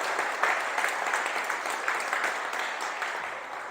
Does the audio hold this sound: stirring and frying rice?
no